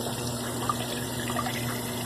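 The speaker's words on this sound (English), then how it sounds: "to start draining, because we're going to have to completely empty this tank" Water drains steadily from a hot water heater tank, a soft continuous trickle and rush that stays even and close with no talk.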